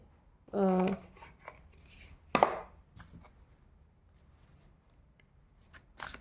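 Tarot cards shuffled and drawn from a deck during a reading, with a quick riffle of shuffling, a sharp card snap partway through, and a faint flick near the end, surrounded by quiet pauses.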